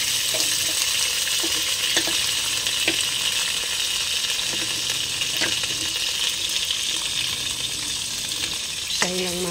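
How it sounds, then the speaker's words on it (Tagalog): Ingredients sautéing in a hot pan, a steady bright sizzle with occasional scraping clicks of a spatula stirring, close and continuous, ending with a clatter. "Mga Mars, magigisa na ako."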